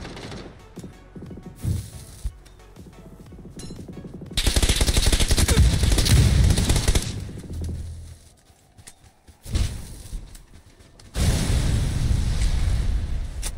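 Gunfire rings out in PUBG on the Vikendi map: bursts of automatic fire rattle in clusters, with loud sustained volleys separated by quieter gaps and scattered single shots.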